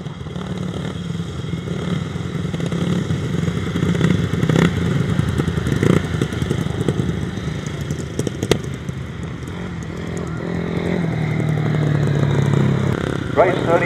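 350cc solo grasstrack motorcycles race on a grass circuit, engines droning and revving steadily throughout with occasional clattering thumps, while a commentator talks over the racket.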